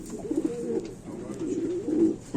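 Pigeons, large male show birds, cooing in low rolling phrases, two or three swelling calls close by with steady background hum.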